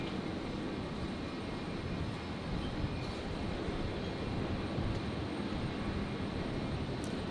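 A Jetstar airliner on a rolling-start takeoff roll on runway 01 right at Brisbane Airport gives a faint, distant, steady jet-engine roar with no break across the stretch.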